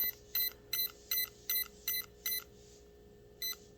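An RC car electronic speed controller gives a rapid run of short, high beeps, then pauses before a single final beep; close and clear, no talk.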